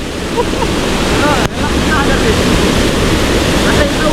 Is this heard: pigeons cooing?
no